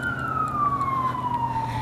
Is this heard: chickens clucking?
no